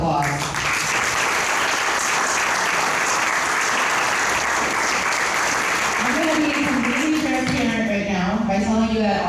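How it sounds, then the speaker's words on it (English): A crowd at a town hall meeting on hyperscale data centers gives a full round of applause, loud and sustained, and a voice starts speaking over the clapping as it continues near the end. "if you could please give them another round of applause"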